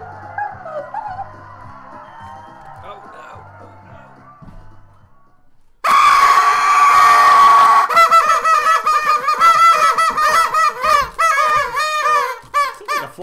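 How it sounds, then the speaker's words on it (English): Quiet murmuring gives way to a sudden loud burst of honking geese, many calls overlapping in a dense, continuous clamor close by. "Flock of geese."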